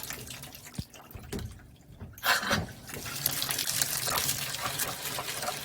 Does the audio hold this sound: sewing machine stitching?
no